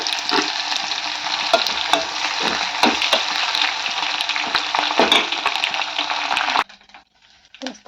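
Onion sizzles and crackles steadily in hot tempering oil seasoned with mustard seeds, cumin, urad dal and dried red chillies, with spatula scrapes punctuating the frying, before the sound drops away abruptly near the end.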